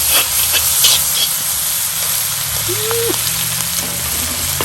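Chestnuts being stirred into a stir fry in a Lodge wok over a Weber charcoal grill, a continuous loud sizzle and hiss with faint scraping, outdoors.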